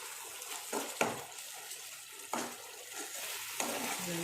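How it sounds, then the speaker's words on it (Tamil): Fish gravy masala with green chillies sautéing in hot oil, a soft steady sizzle broken by three or four sharp scraping stirs of a spoon against the pan, close by with no talking. "நல்லா கொஞ்சம் லைட்டாக ஒரு 5 நிமிஷம் நல்லா வதங்கணும்"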